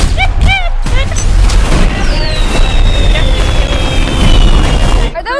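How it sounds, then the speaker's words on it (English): Fireworks burst in a loud, dense mix of booms and crackles during a tornado-chasing film scene, with music, whistling tones and voices mixed in. "Are those fireworks?"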